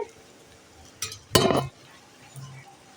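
Dried fish (valai karuvadu) stir-fry with onions being stirred in a pan: a couple of brief metallic scrapes and clinks of a spoon against the pan, the second louder, over a quiet background.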